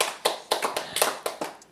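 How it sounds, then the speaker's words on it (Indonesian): A church congregation claps for God during a worship service: a short run of sharp, uneven hand claps, fairly close and distinct, with no voices over them. "Tepuk tangan buat Tuhan"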